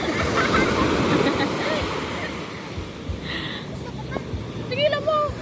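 Large ocean waves surge and crash loudly up close for the first couple of seconds, then the surf eases under people talking and exclaiming.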